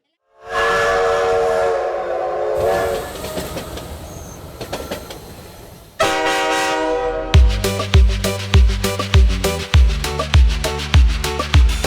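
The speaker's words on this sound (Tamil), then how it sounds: "சிக்கு புக்கு ரயில் வண்டி பரலோகம் சேர்த்திடும் ரயில் வண்டி" A steam train whistle sound effect blows in long sustained tones, then gives way to loud rhythmic chugging pulses, like a locomotive pulling away, heard as part of a children's train song.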